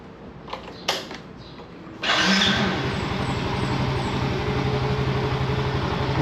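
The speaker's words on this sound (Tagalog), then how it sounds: "buhay na yung ating motor" After a few light clicks, a motorcycle engine catches and settles into a steady, close idle with an even mechanical throb that continues without talk.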